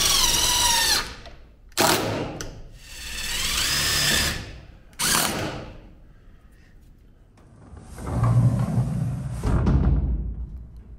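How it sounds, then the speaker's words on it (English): A power drill fitted with a 1/4 inch hex socket drives self-tapping screws on a pole barn door, running in several loud bursts of whirring, some short and a couple lasting a second or more, with pauses between. "The kit comes with self-tapping screws, and this is where your 1/4 inch hex socket is going to come in handy."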